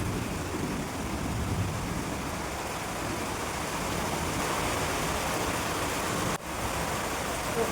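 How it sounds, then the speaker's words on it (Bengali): Heavy rain falls steadily as a dense, even broadband wash, loud and unbroken throughout with only a brief dip near the end. "প্রচুর বৃষ্টি পড়ছে"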